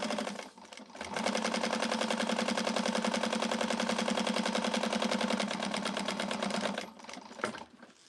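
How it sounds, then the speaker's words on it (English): A sewing machine stitches a seam at the seam allowance in one continuous, rapid, rattling run of about six seconds, fairly close, with a brief stop and start at the edges. "you're just going to stitch this on at the seam allowance that she gives you"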